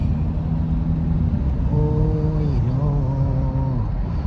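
Heavy road traffic flows past, with a continuous rumble of engines and tonal whines from vehicles moving by at moderate distance and no voices.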